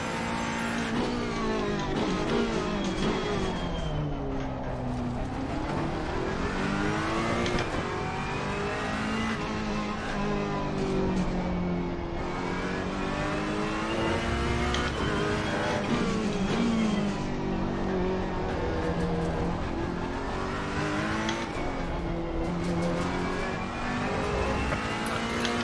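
A race car engine in Assetto Corsa Competizione screams around a lap of the Nürburgring, its pitch rising through each gear and dropping on shifts and braking in repeated sweeping waves, loud and continuous, with occasional tire squeal.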